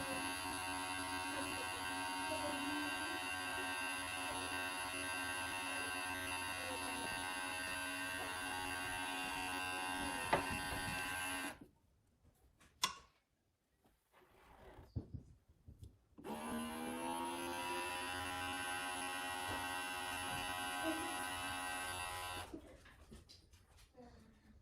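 A Tribest Slowstar juicer pulls air out of its jar with a steady electric motor drone that cuts out for a few seconds amid faint clicks, then starts again before stopping near the end.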